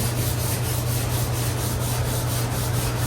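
Continuous close-up scrubbing of 80 grit sandpaper over a fiberglass 1932 coupe body, loud and even with a soft repeating stroke rhythm over a low hum, no voices.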